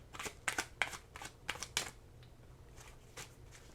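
Tarot cards shuffled for a reading, a quick run of crisp riffling bursts up close, then a few fainter card flicks trailing off with no talk.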